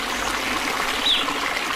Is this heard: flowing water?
yes